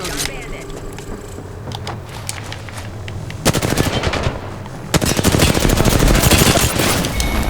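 Machine-gun and rifle fire in the video game Apex Legends, with loud sustained automatic bursts that grow denser toward the end, close and heavy, with voices talking underneath.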